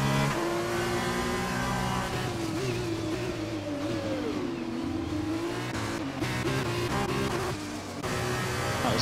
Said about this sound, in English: that really loud, aggressive Alpine engine there